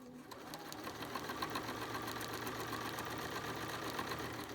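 A BERNINA sewing machine stitches a fabric face mask with a bias binder attachment, running as a steady, fast mechanical whir with a constant motor hum and rapid needle clatter, close and continuous throughout.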